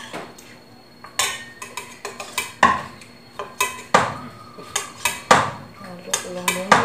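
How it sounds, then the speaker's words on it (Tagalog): Chicken adobo stirred in a metal cooking pot, with a ladle clanking and scraping against the sides in irregular, sharp, loud knocks, close up, with quieter shuffling between strokes. "Halo ko lang muna ito."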